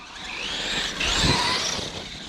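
An RC8 nitro buggy engine buzzing at half throttle, a high whining drone that rises and falls as the car passes nearby, steady and fairly loud.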